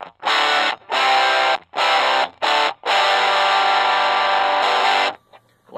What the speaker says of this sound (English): I like the sound of the bridge pickup a lot better on this amp than the neck pickup.